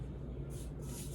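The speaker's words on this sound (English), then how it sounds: "I'm gonna spray my pan. My mama has some bacon spray stuff in here." A short hissing burst of bacon-flavored cooking spray hits a pan, with two quick sprays close to the mic over a steady low background rumble.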